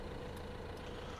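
Steady low rumble of a tractor engine idling in Farming Simulator 2015, continuous and even throughout with no voices.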